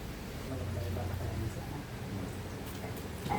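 Steady rain patters in a continuous hiss, fairly quiet, with faint movement and rustling nearby, at a private resort in Real, Quezon.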